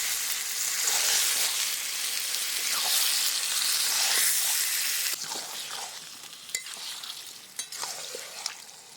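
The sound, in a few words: duck meat frying and being stirred with spice paste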